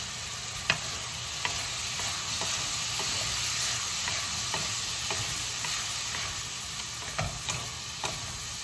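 Shrimp and pork frying in a pan for banh bot loc filling, with a steady sizzle and repeated scraping stirs throughout, close and alone.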